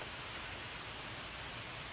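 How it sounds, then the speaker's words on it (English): A light rainstorm outside makes a steady, even hiss with a soft broadband wash and no distinct drops or voices. "Oh, I hear it raining."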